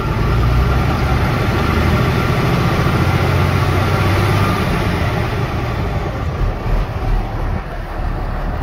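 A 2007 Ford F-750 Super Duty forestry bucket truck idles right at the exhaust, a loud, steady, close diesel rumble that holds constant without any talk.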